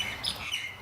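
A nearby bird gives a few quick, high chirps in a brief burst, clear and fairly close above a faint background hiss.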